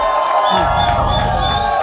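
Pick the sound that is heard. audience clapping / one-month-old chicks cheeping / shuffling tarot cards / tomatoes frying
audience clapping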